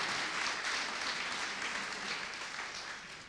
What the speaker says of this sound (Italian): applauso giustamente, auguri